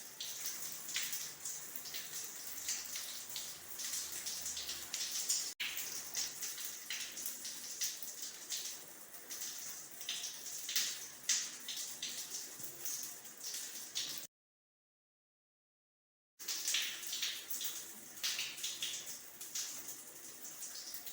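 Steady water running and splashing during washing in a ritual bath, a continuous close wash of pouring water with a brief silent gap partway through.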